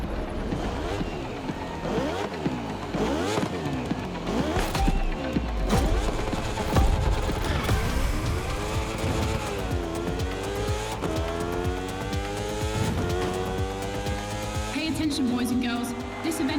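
Racing cars in The Crew Motorfest roar through repeated rising and falling revs as gears shift, with tire squeal and loud close engine sweeps throughout and a voice talking over them.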